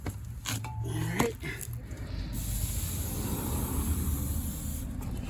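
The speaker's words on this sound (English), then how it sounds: "So you're going to want to spray it with some brake clean." Brake cleaner sprays in a steady hissing burst onto the brake caliper of a Ford EcoSport's rear brakes, running nearly continuously after a few brief clanks and shuffles at the start, close to the microphone.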